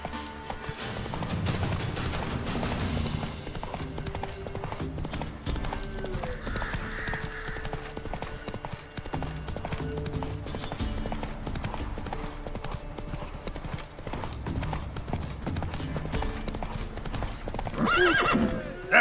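Roach, Geralt's horse in Witcher 3, gallops with steady rapid hoofbeats and lets out whinnies, the loudest neigh near the end, all over a continuous game soundtrack.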